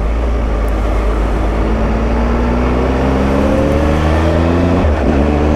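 A Triumph Tiger 1200 XCA motorcycle engine drones on a test ride, its pitch rising steadily as it accelerates, then dipping briefly with a gear change before climbing again.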